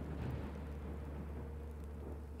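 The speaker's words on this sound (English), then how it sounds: "We're getting rained on too!" Steady rain with a low rolling thunder rumble from the game Minecraft Story Mode, constant and fairly full throughout with no talking.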